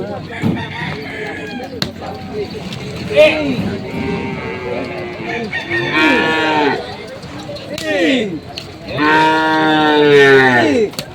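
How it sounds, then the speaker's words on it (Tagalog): Water buffaloes bellow and moo repeatedly, loud and close, as they are loaded at a livestock auction market in Lucena, Quezon, amid shouting handlers and clattering movement. "Kinakarga na itong mga kalabaw na galing sa Lucena."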